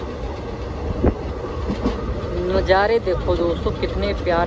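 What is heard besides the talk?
passenger train moving on rails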